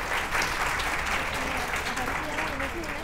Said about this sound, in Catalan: rebeu l'aplaudiment del públic